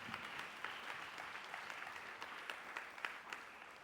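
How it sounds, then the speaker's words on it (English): Audience applause at a youth council founder's address and graduation, a steady wash of many hands clapping at moderate, fairly distant level throughout, with no talk over it. "clap it up for Successteam as a whole."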